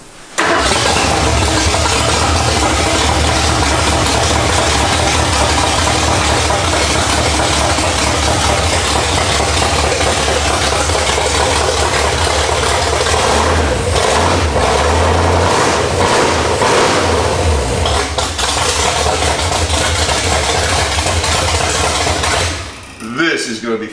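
A Ford K-Code V8 fitted with headers starts and runs with a loud, steady, rumbling idle that fills the scene. Near the end it cuts off briefly.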